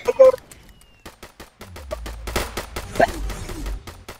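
Rapid gunfire bursts from the Roblox video game play under excited voices, the shots coming as fast repeated cracks over a low rumble.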